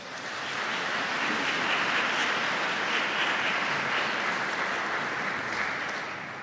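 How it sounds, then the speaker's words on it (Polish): A concert audience at a Requiem performance applauds the city's mayor with a broad, even wash of clapping that swells in and holds steady, then eases slightly at the close. "Brawa dla pana prezydenta."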